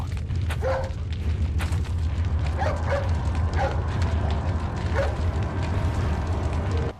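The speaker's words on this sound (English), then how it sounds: "Hey, it's that dog." A dog in Resident Evil 4 gives several short barks and yips at irregular moments over a loud, rumbling game soundscape, with no talk.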